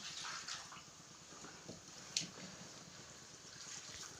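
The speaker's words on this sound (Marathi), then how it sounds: "आता पाणी टाकते" Water pours steadily from a vessel in a home kitchen during cooking, a faint continuous splashing trickle with slight swells and one small splash midway.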